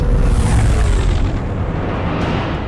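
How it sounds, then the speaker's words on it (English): Turbolaser and missile fire from an enemy Franta-class warship in Star Wars: The Old Republic, heard as a loud, continuous rumbling barrage of booms and blasts that slowly eases off. "Enemy is firing. Turbo lasers, missiles, and what looks like transport pods."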